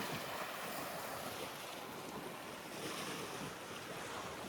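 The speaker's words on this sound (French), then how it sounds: "ah il y a du vent hein" Strong wind roars steadily at a viewpoint in Prachuap Khiri Khan, Thailand, buffeting the microphone with a constant broadband rush and no pauses.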